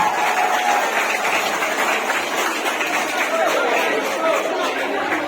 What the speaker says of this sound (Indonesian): Sekali lagi saya minta tepuk tangan yang meriah untuk Ibu Atik